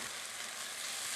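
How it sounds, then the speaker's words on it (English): Garlic and chicken stock bubble at a boil in a pan, a dense continuous sizzling hiss heard up close with no voices. "Where it is right now is boiling"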